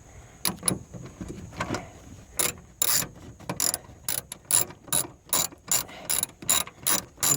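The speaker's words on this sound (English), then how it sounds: "I'm putting the wrench on here, as you can see." Clicking ratchet wrench loosening the antenna nut on a 1996 Toyota Avalon, heard in bursts of close, sharp clicks separated by short pauses, with no talking.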